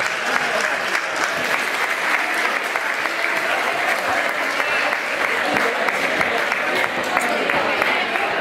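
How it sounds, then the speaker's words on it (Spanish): A crowd at the elderly residents' lunch of the 2018 Ojén town fair gives steady, loud applause for an honoree, continuous clapping throughout with voices mixed in. "Un aplauso, un fuerte aplauso."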